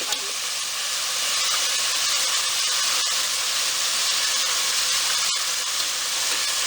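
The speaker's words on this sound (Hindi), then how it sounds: "1 मिनट हो चुका है हमारे गोश्त को फ्राई होते हुए" Loud, steady sizzling hiss of chicken frying in a hot pan, continuous and close, with occasional faint clicks.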